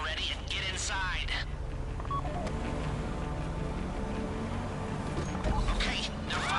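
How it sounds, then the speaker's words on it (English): Phone keypad tones sound as a call is dialed to trigger a vault door in GTA Online, brief faint beeps under a player's ongoing talk. "Take out your phone and trigger the door."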